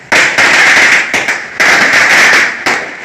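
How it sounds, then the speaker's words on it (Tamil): Snake firecrackers burst loudly during Diwali, a rapid crackling string of sharp pops in several close, loud volleys separated by short pauses. "பாம்பு பயங்கர சவுண்டு வரும்."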